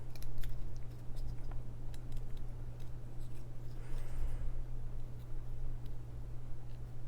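Scissors snip around a pattern in printed paper, giving soft irregular close clicks and crisp cuts over a steady low electrical hum, with no voices.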